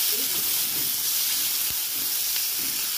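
Chilli, garlic and ginger paste frying in a pan gives a steady, close sizzle and hiss that runs the whole time, with a few soft stirring scrapes and a low thump near the middle.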